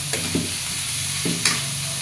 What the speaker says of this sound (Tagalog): So, lagay na natin yung ating pinalambot na liempo.